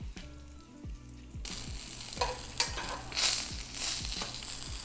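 Potstickers hit a hot pan and set off a loud, dense sizzle partway through, which keeps crackling steadily over a low rhythmic background hum.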